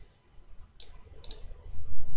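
Computer mouse clicks during SolidWorks modelling: a few sharp, close clicks, one single then a quick double, set against quiet room noise.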